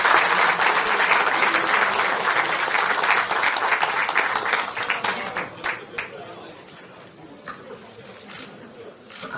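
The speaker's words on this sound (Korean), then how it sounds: "힘찬 박수 부탁드리겠습니다." Loud, dense applause from a party assembly greets a newly elected floor leader, strong at first and then thinning into scattered claps toward the end.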